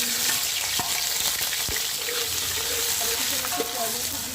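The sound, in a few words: onions frying in hot ghee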